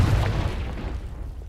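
A deep booming blast from the Confringo fire spell in Hogwarts Legacy, one heavy low burst at full strength that rumbles and slowly fades, with no talk over it.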